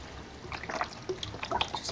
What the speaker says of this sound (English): Then I just start pouring in the beef broth.